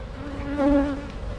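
Honey bees buzz close by with a steady droning hum that swells briefly in the middle, heard alone without any talk.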